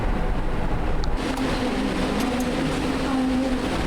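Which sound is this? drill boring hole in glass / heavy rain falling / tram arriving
tram arriving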